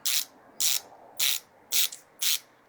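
Five evenly spaced bursts of a ratcheting screwdriver click close by as screws come out of a PC's protective plate, each burst short and crisp with quiet pauses between.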